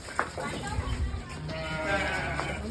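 Sheep bleat amid a crowd of sheep and goats at feeding time, several calls rising over steady background commotion while a person talks nearby.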